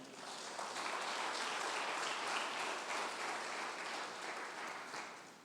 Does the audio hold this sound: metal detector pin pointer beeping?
no